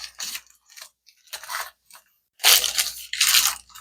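Parchment paper being gently patted down into pie crust dough for a chocolate pie, heard as four short papery crinkling bursts, the last two louder and fuller, with no talking.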